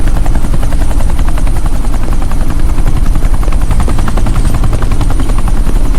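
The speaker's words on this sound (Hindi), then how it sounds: "ये हेलीकॉप्टर सीधे एयरपोर्ट के टारमैक पे लैंड होगा।" A helicopter in a Bollywood film scene, headed to land on an airport tarmac, fills the whole stretch with a loud, steady, close rotor thump and turbine whine, with no voices over it.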